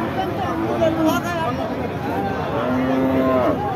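Cattle moo several times amid a busy cattle market crowd's chatter and background hubbub.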